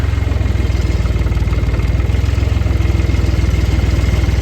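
A heavy tractor engine with a broken clutch idles steadily up close, a loud, low, rapid chugging pulse that never changes pace, with no voices over it.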